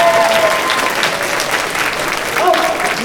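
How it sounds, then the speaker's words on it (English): A crowd at the Bewhiskered 2026 closing ceremonies gives a round of applause, steady dense clapping lasting several seconds with a voice briefly over it. "Give you all of them a round of applause"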